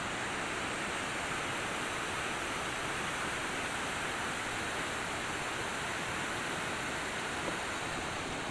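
A forest waterfall at Brgy. Guinob-an, Lawaan, Eastern Samar pours in a steady, even hiss and rumble of falling water, unbroken throughout and fairly soft, with no voices.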